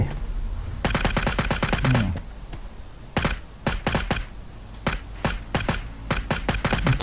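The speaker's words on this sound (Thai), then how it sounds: "นี่ครับมันก็ยิงได้ประมาณนี้นะ" Rapid bursts of gunfire from weapons on the training range of the battle royale video game Sausage Man, several loud repeated volleys with short gaps between them and no talking.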